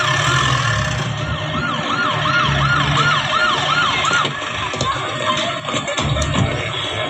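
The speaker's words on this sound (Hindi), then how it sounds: "सर ट्रैफिक में एम्बुलेंस फंसी है।" An ambulance siren caught in heavy traffic wails in a rapid, repeating rise-and-fall pattern, then fades into the rumble of surrounding vehicles and street noise.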